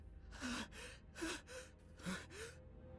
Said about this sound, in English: Sinclair was gasping for breath behind him